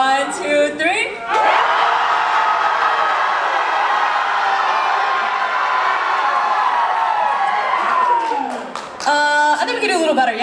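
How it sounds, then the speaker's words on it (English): A large pageant audience at UCI Rose Pageant 2022 bursts into loud, sustained cheering and whooping after a brief spoken countdown, the roar holding for several seconds before fading back to a voice. "On the count of 3, we're gonna cheer as loud as you can."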